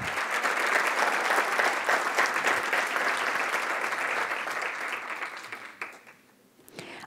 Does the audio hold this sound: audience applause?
yes